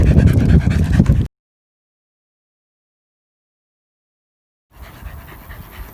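Dog panting rapidly and close on a walk across marshland, quick rhythmic breaths heard before and after a stretch of complete silence.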